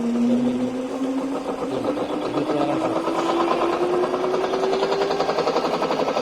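A pole changing induction motor on a no-load test runs up from start with a steady electrical hum that rises gradually in pitch, accompanied by a continuous mechanical whir, with no talking.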